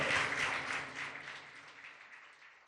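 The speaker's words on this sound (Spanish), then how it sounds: "Dale un aplauso a tu Señor." A church congregation claps during a service, a faint, distant wash of many hands that slowly fades out.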